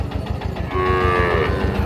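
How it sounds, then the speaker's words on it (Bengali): A cow with her calf lets out a single drawn-out moo nearby at a cattle market, loud and clear over a faint rhythmic background rumble. "বাছুর সহ গাবি গরু"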